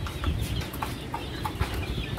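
Kanawayon line gamefowl at a breeder's farm give soft, scattered clucks and low throaty calls, close by over a busy rustling background.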